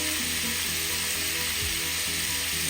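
Meat seasoned with black pepper and cumin fries loudly in a pan, giving a constant, dense sizzle that runs the whole time with no talking.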